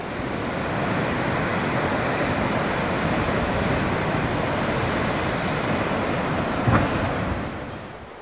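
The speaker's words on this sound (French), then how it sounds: "C'est plutôt ces vagues là qui sont... Enfin, qui peuvent être un peu plus inquiétantes." Ocean waves roll in at Funchal, Madeira, a broad continuous roar of surf with a steady wash throughout, joined by wind, and one brief sharper crash near the end.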